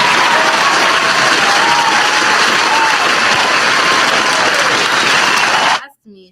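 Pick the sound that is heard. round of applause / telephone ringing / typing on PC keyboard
round of applause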